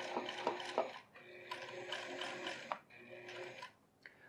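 Sewing machine running a top stitch beneath the welt on a pair of jeans, heard close up as bursts of rapid mechanical whirring separated by short pauses, with no talk.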